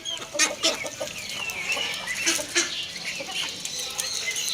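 Several hens cluck in short, scattered bursts over a steady outdoor background, with occasional sharper calls standing out.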